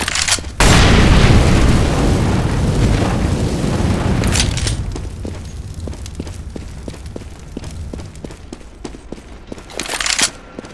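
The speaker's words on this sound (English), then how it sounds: "Throwing fire!" An incendiary fire grenade goes off on the Train map in Counter-Strike: Global Offensive, a loud whooshing burst followed by a roaring, hissing burn that gradually fades while sharp crackling ticks and a few distant gunshots continue.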